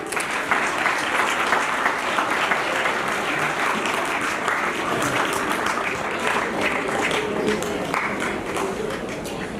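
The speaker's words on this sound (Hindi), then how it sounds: "जोरदार ताली बजाने के लिए" Loud, sustained applause from a school farewell audience, clapping for Class 12 evening-batch students; dense, continuous hand claps fill the whole stretch at steady volume.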